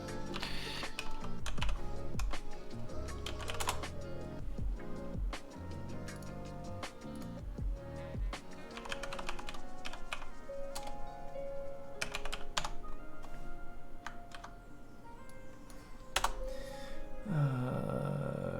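A password is typed on a computer keyboard, close rapid key clicks in irregular bursts with pauses, no voices.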